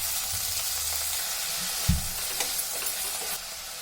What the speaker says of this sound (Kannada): ಚಿಕ್ಕದು 3 ಟೊಮೊಟೊ ಸೇರಿಸ್ಕೊತಾ ಇದ್ದೀನಿ.